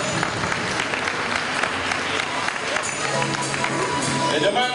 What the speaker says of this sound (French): Ça vient d'être accompagné par quelques applaudissements.